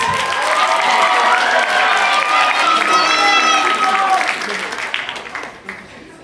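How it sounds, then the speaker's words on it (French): Loud crowd applause mixed with cheering and shouting voices, steady for about four seconds and then tapering off and thinning out toward the end. "Un applaudissement, Félix!"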